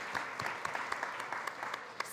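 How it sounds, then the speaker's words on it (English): An audience at a food summit gives brief applause, a close, even patter of many hands clapping for about two seconds. "Round of applause for them, please."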